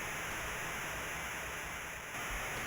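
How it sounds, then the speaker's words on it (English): A trailer drum sample warped by lo-fi effects into a steady, loud wash of white noise with faint rumbling underneath, no clear hits left. "I've destroyed something because now it's just white noise"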